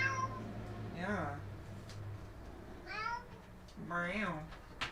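A pet cat meows three times at spaced intervals, each call rising and falling, over a steady low electronic hum indoors.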